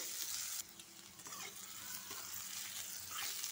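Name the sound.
onions frying in a pan with cumin and spices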